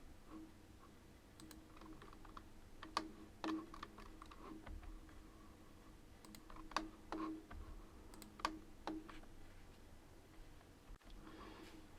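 Scattered, irregular clicks of computer keyboard keys being pressed, quiet and close, with pauses between short bursts of typing.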